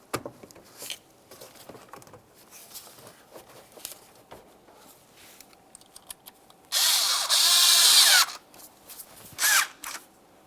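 A small power tool whirs loudly in two bursts as it snugs up the air inlet tube clamps on a 2003–2011 Mercury Grand Marquis engine. Quieter handling taps and clicks come before and between the bursts.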